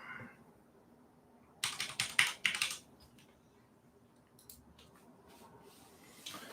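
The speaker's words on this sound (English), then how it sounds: "while I'm typing in my number" Keys tapped on a computer keyboard while entering a phone number, a quick burst of clustered clicks followed by a few scattered, lighter taps, close and fairly quiet with no talking.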